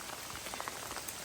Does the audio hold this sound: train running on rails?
no